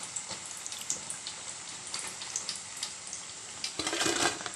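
Pumpkin bhaji frying in hot oil, a steady dense crackle of bubbling with scattered sharp pops, swelling louder toward the end as the batter fritters sizzle close up with no talking.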